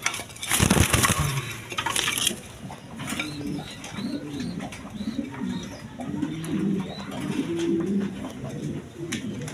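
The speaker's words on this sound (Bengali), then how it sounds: "এখানে এক পেয়ার 3 পট্টি লাল গিয়ার ডেনিশ কবুতর আছে রেড কালারের মধ্যে" A pair of red Danish pigeons offered for sale coo in soft, repeated rhythmic phrases nearby, after a brief loud rustle and clatter at the start.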